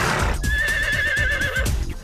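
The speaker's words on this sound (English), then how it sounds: "A miniature horse named Twinkie." A miniature horse working as a guide animal lets out a loud close whinny, a wavering tone lasting about a second, over a dense low rumble.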